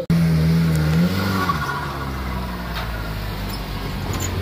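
A Renault Clio Trophy rally car roars along a stage of the Rallye des Ardennes 2023 in the Belgian Rally Championship, loud and close. The engine note falls after a hard opening burst, then settles into a steady driving drone.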